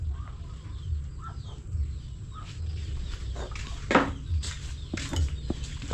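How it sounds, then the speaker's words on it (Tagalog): Backyard chickens clucking softly with a few brief calls, over a low steady hum and light shuffling, fairly quiet and unhurried. "Yung mga manok"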